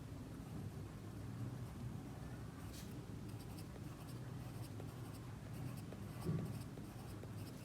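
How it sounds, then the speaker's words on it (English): Quiet, steady scratching of a pen or pencil drawing small cells onto paper for a pleomorphic adenoma sketch, continuous and close under low room noise. "you can draw few more here"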